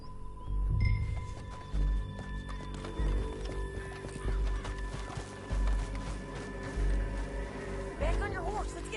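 A horse in Red Dead Redemption 2 galloping with rhythmic, heavy hoofbeats, close and steady, with a whinny near the end and voices talking over it.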